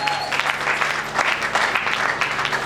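A church congregation at a Sunday service claps steadily and energetically, a dense patter of many hands that holds its level throughout.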